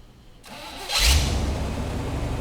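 An off-road wrecker truck's engine, fitted with Jegs Bandit fuel injection, cranks and catches after a moment of quiet, then settles into a loud, steady idle rumble close by.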